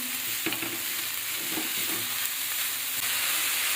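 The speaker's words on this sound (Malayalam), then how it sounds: "ഇനി നമ്മളിത് എല്ലാം ഒന്ന് നന്നായിട്ടൊന്ന് മിക്സ് ചെയ്ത് കൊടുക്കുകയാണ്." Agathi greens are stirred in a hot pan, a steady frying sizzle running throughout with a few scraping spatula strokes near 0.5, 1.6 and 3 seconds, close and alone with no talk.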